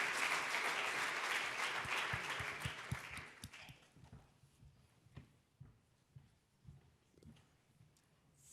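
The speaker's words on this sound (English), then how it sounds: "Applause for them." Loud applause from an audience at a Berlinale 2026 award ceremony fills the first few seconds, then thins out into scattered, fading claps.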